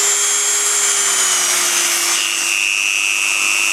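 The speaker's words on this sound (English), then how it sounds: "from this point of view, the Dremel wheel's rotating clockwise" Dremel rotary tool with a cutting wheel grinding a model locomotive chimney, a loud, steady high-pitched whine and rasp holding continuously with a slight drop in pitch partway through.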